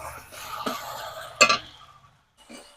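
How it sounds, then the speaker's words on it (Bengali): Onion, garlic, ginger, green chili and black mustard paste being stirred in a pan, with soft scraping and light sizzling, a sharp spoon clatter midway and a brief pause near the end. "ভালো করে আদা রসুন পেঁয়াজ কাঁচা ঝাল আর কালো সর্ষে বাটাটা ভালো করে কষিয়ে নিলাম"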